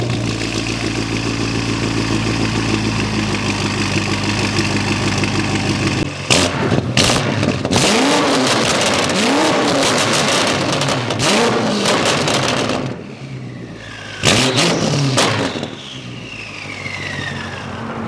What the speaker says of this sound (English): So as you heard in that exhaust clip, this M5 is super loud.